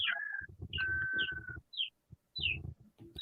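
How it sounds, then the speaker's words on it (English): Birds, apparently chickens, give a few high, thin chirps and calls at an outdoor memorial site in Cambodia, scattered between stretches of nearby rumbling and shuffling noise. "Goodness, look at all the birds."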